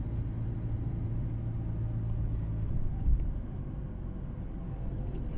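A car rolls slowly at about 20 km/h through narrow town streets during a driving test, a steady low engine and road rumble filling the cabin from start to finish, with a brief bump partway through.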